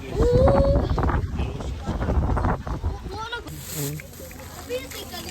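Gusty wind buffets the microphone with a low roar while people talk close by in Baguio City, Philippines.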